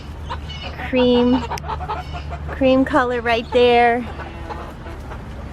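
Backyard hens of an urban farm clucking in several short, close bursts spread through the clip, with someone talking quietly between them.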